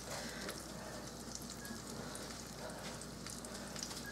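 Salisbury steak patties sizzle as they brown in a pan, a steady, even frying hiss with faint pops throughout, close and continuous with no voices.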